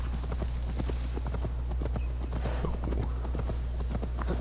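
Steady clip-clop of horse hooves trotting at an even pace over a constant low hum, with no voices, in the video game Assassin's Creed Valhalla.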